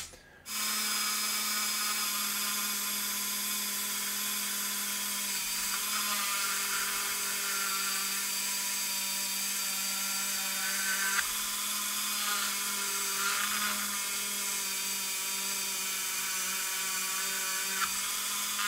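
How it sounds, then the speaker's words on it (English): A Dremel rotary tool cutting styrene flat bar whines at a steady high pitch for a sustained stretch, with slight shifts in tone as it bites into the plastic. "Might have to go a little bit freehand with that with our Dremel"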